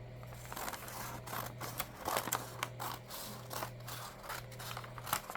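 Scissors snip through paper sheets for a tiny junk journal, a series of sharp, close crisp cuts and crunches at an irregular rhythm, fairly quiet, with no talking.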